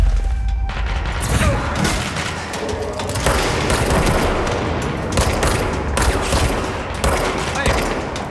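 Dense, continuous gunfire from the video game Control, with rapid bursts and booming impacts filling the whole stretch at high loudness, the shots overlapping into a steady barrage.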